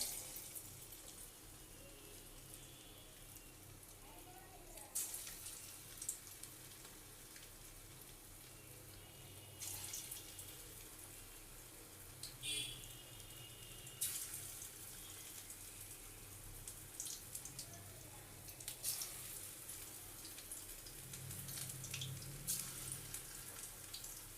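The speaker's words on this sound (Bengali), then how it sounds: "আমি এবার তেলে ছাড়ছি দেখতে থাকো" Vegetable pakora batter made from leftover cooked vegetables frying in hot oil in a wok, a soft continuous sizzle and crackle with occasional louder hisses, steady and fairly quiet.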